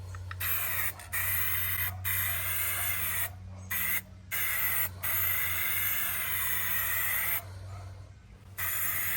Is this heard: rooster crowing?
no